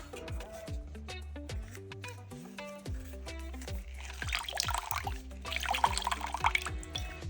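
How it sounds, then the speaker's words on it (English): The juice of two limes is squeezed by hand, giving brief wet, splashing bursts in the latter half over a soft tonal backing. "We're going to use the juice of 2 limes."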